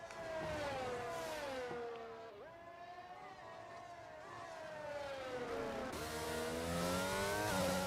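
Race cars in a sim-racing league game, including a McLaren, whine loudly and steadily with rising and falling engine pitch, shifting gears as they run close together through the whole stretch, with no talk over them.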